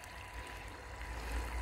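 Water flows steadily from a well in a village setting, a soft continuous trickle and gurgle with low rumble, fairly quiet and unbroken, no voices.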